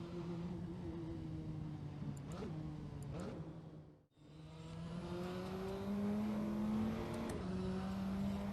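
Turbocharged Praga R1 race car in a racing video game: a steady engine drone rising in pitch through the gears, cut by a brief dropout mid-shift, then climbing again with a faint whistle on top.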